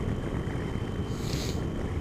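Wind buffets a helmet microphone out on a motorbike, a continuous low roaring rush with no voices.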